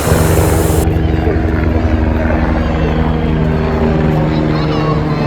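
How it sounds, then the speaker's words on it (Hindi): Helicopters running at the Vaishno Devi helipad give a loud, steady rotor and engine drone that holds at an even level from start to finish, with a constant tonal hum and no talk over it. "हेलीकॉप्टर ऑलरेडी स्टार्ट हो चुके हैं"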